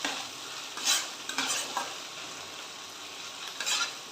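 Spinach stirred and fried in ghee in a pan, a soft steady sizzle with a few louder scraping stirs, fairly close, no voices.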